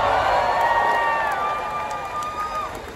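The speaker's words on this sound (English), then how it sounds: "I want you to cheer and applaud like you just saw the most amazing stunt here on set." Studio audience on a film set cheering and applauding as if after an amazing stunt, a dense, loud wash of crowd cheers with whoops and rising voices sustained throughout.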